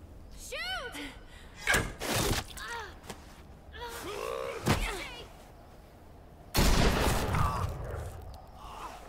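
Gunfire in The Walking Dead video game, a few sharp shots and cracks scattered amid speech, groans and clattering action, with a louder burst near the end.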